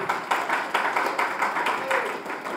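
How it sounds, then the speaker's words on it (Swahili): An audience applauds a coordinator at a CASFETA TAYOMI church gathering, with steady rhythmic group clapping in repeated pulses filling the room. "Pigeni makofi mratibu."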